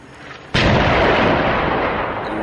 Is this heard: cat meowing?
no